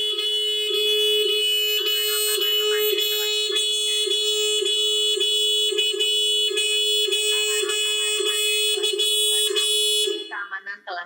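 Smart security alarm on a WiFi-connected motorcycle sounds a loud, steady electronic siren with a rapid repeating pulse for about ten seconds, then cuts off as a brief voice-like announcement starts.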